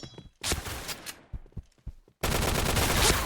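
Guns fire in the shooter game Point Blank: a few scattered shots and footstep-like taps, then a loud, dense, continuous burst of automatic fire that runs to the end.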